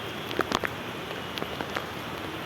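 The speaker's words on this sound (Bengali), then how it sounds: "বৃষ্টির মজা।" Rain falls steadily in a soft, even hiss, with a few sharper drops pattering close by on a surface.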